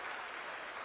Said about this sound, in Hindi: जोरदार तालियां विनय मिश्रा जी के लिए हो